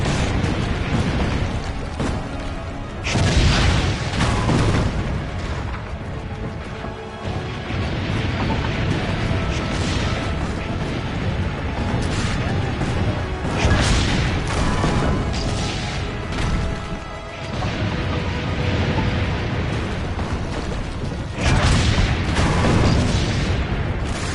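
Cannons firing in the video game Assassin's Creed: Brotherhood, a series of loud, heavy booms at irregular intervals over a constant roar of battle noise, with no speech.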